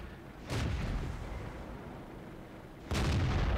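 Two heavy tank cannon shots in World of Tanks, each a loud broadband boom with a long rumbling tail, the first about half a second in and the second near the three-second mark.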